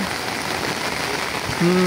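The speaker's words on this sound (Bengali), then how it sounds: "বৃষ্টি হচ্ছে" Rain falls steadily on a rooftop, a dense even patter close by throughout, with a brief tonal sound at the end.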